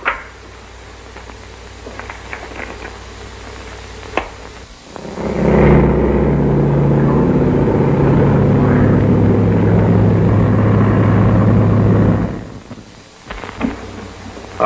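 A chartered propeller plane flies in a 1938 crime drama. A loud, steady engine drone swells in, holds for several seconds, then cuts away to quieter room tone.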